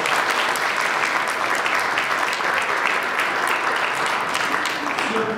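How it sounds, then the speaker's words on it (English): Wedding guests break into steady, dense applause right after a ring exchange, a loud continuous clatter of many hands clapping close by for several seconds with no pause. "You could clap now."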